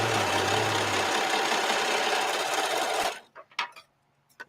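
A sewing machine runs steadily, stitching fabric, with a loud, even whir that stops abruptly after about three seconds, followed by a few faint clicks and handling sounds.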